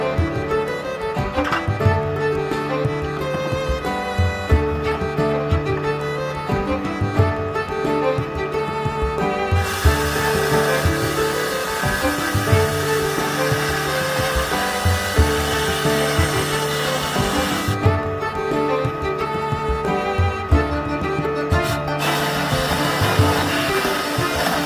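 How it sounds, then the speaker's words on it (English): A 2-inch copper supply line is cut with a steady, continuous power-tool whine, loud and close, with a brief shift in tone partway through as the blade bites into the pipe. "I'm cutting into this 2-inch line and installing a 2x2 by 3/4 inch T"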